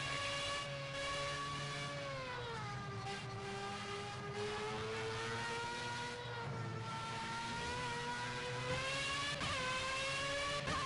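Race car engine in Project Cars held at full throttle, a whining, strongly harmonic drone that rises and falls with gear changes and revs, steady and close throughout with no talk.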